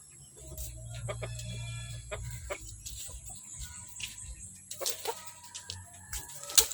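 Four-month-old black boa gamefowl chickens in a backyard, clucking and chirping in short irregular bursts close by, with other birds in the background and a low rumble early on.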